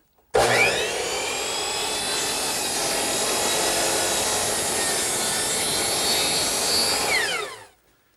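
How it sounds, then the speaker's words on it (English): A saw makes a 45-degree miter cut through wood molding for a colonial fireplace mantel, one continuous loud, close cut lasting about seven seconds with a whining tone that rises toward the end before stopping abruptly. "Slide it over here now with the miter at 45. I can make a cut."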